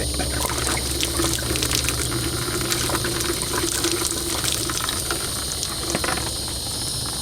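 Coolant gushes from a loosened lower radiator hose on a Jeep Cherokee XJ into a bucket, a steady loud splashing and hissing pour that continues throughout and eases slightly near the end.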